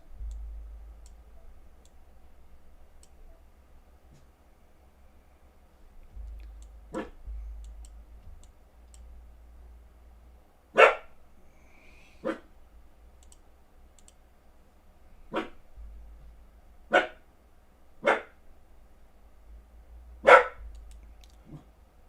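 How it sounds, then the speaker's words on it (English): A dog named Max barks in short, sharp single barks, about seven spaced irregularly over the stretch, fairly distant and faint over a low steady hum. "Max is barking."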